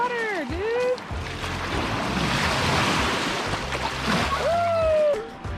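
Surf breaks and washes steadily over a black sand beach in Hawaii at sunset, a continuous close roar mixed with wind noise, with brief whistling tones at the start and end.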